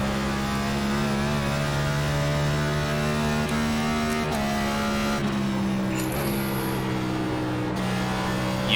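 A NASCAR Cup Series race car at Rockingham Speedway in iRacing drones loudly and continuously, its engine pitch climbing and stepping through upshifts, with brief high-pitched tire squeal partway through; no speech.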